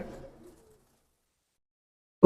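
A Saleh teddy pigeon coos close by: a low, soft call at the start, then near-silence, then a louder, fuller coo right at the end.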